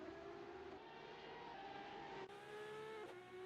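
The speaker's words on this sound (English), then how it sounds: "And he's still revving it all the way." A Ford Focus race car engine revs high and steady in a racing game, a strained tonal whine held at constant pitch. It dips briefly for a quick shift, then climbs back to full revs.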